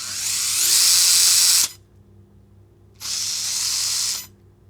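An FTX Utah RC crawler's electric motor whines in two bursts as the throttle opens, a bright high-pitched buzz that cuts off, pauses, then starts again at close range.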